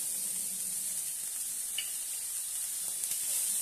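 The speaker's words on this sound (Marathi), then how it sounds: "अजून थोडा वेळ परतून घेऊया।" Spiced green pea masala sautéing in a pan, a steady soft sizzle and hiss throughout, close and continuous with no talk.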